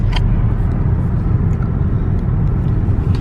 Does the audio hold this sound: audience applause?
no